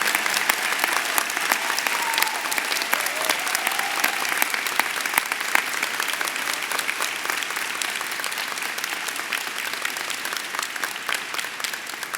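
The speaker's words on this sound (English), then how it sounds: "Let's give a round of applause for that really beautiful cloaking ceremony." Sustained, dense applause from a large crowd at a medical school white coat (cloaking) ceremony, loud and even for the whole stretch with no break.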